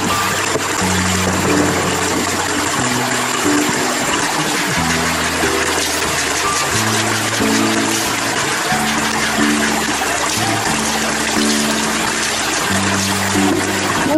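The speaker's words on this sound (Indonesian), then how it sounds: "lanjut nyuci baju." Clothes washed by hand in a stream near a tree house; continuous running and gushing water fills the scene, steady and close, with no voices.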